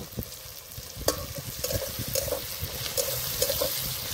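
Crushed cardamom sizzles in hot oil with onion and tomato for a Ritha fish curry, a close, steady hiss and crackle broken by light spatula clicks.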